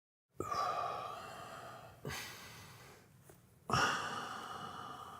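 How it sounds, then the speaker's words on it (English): Loud breathing close to a microphone: three heavy, noisy exhales or sighs, each starting abruptly and trailing off, separated by brief quieter pauses, with no talking. "It's impossible to not hear you just breathing super loudly."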